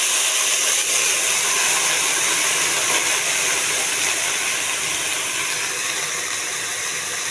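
Bottle gourd pieces frying in a pan give off a loud, steady hiss and crackle that holds unbroken for several seconds, with no talking.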